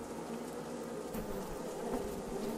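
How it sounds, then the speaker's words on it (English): Swarming bees attacking in the video game Dragon City give a continuous, dense buzzing drone that holds steady throughout, fairly close and unbroken, with no speech over it. "send in more bees, dude."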